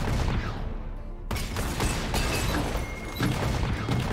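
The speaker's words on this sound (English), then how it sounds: "I don't like how each one of these does three cannonballs, honestly. Cannon barrage." A cannon barrage in the Legends of Runeterra card game lands as a run of heavy booms and crackling impacts, loud and continuous with a sharp burst partway through, no talk over it.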